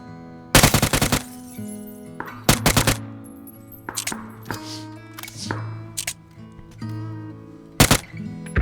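Bursts of automatic gunfire from a PUBG match, several rapid volleys with gaps between them, loud and close, along with scattered single shots and in-game clatter.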